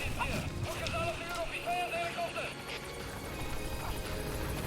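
In the Metal Gear Solid V: The Phantom Pain video game, a helicopter arrives with a rotor drone and whine under game dialogue and a player talking over it.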